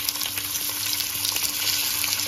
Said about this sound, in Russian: Я налила совершенно немножко растительного масла и начинаем обжарить наши ребрышки с двух сторон